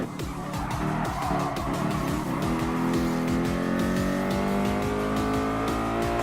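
Nissan GT-R race car in Gran Turismo Sport, its engine revving hard with rising and falling gear pulls and tire squeal, loud and close throughout.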